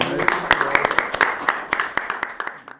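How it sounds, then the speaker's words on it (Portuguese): An audience at a university film club claps after a debate on the film "O Começo da Vida", a sparse scatter of distinct, fairly close hand claps that thin out and fade toward the end. "Palmas para nós."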